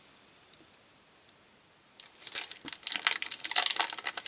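Packaged clear stamps are unwrapped, and plastic packaging crinkles loudly and irregularly up close after about two seconds of near silence broken by one small click.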